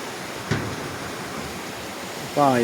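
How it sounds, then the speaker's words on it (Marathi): Steady broadband rush of water flowing down from the mountain near the Siddheshwarwadi temple, continuous and fairly close, with a brief tonal whistle or voice at the end. "पाणी येत आहे पूर्ण डोंगरामधून येत आहे पाणी आहे"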